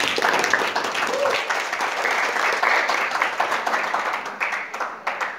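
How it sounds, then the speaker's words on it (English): Audience at an inspirational talk applauding, a sustained loud wash of many hands clapping that thins toward the end into scattered individual claps. "Give him a clap"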